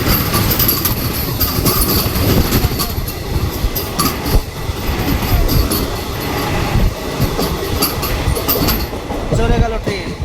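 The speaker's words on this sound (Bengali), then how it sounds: "চলে গেল ট্রেন।" Another train rushes past close alongside a moving Bhagirathi Express bound for Sealdah, a loud continuous rumble and clatter of wheels with thin metallic squeals throughout.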